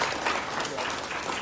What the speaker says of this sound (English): Let's give a nice round of applause for all of our guests.